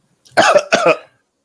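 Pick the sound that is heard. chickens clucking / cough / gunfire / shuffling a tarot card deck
cough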